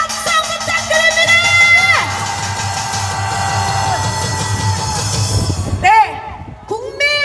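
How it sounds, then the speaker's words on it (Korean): A crowd at an outdoor political rally in Korea lets out a loud, sustained roar of shouts and whoops, swelling and then dropping off sharply near the end. "우리 박태환 군께 한 번 더 함성 부탁드립니다"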